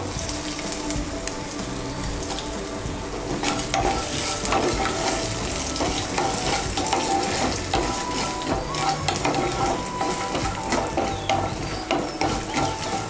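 Grated ginger and dried chili fry in a pan with a steady sizzle, while a utensil stirs with rhythmic scraping clicks that grow busier partway through, close and fairly loud.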